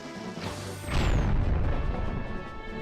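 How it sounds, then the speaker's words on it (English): An explosion in a Zelda Twilight Princess video game: a heavy booming crash that swells after a short whoosh and rumbles on with debris-like noise, loud and alone. "That was a chunky explosion sound."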